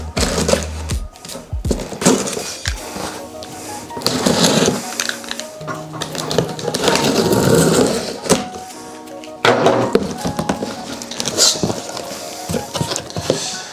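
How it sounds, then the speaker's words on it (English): A DeWalt knife slices open the cardboard shipping box of an AC Infinity S12 floor/wall fan, giving close, scratchy tearing and cutting strokes with crinkling cardboard and packaging thumps throughout, no talk. "So let's crack the box open and have a look at what we're working with."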